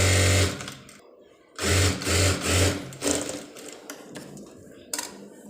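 A sewing machine stitches a joint on a one-piece dress sewn from an old saree, running in short loud bursts with pauses between them. Speech comes in during the quieter stretches.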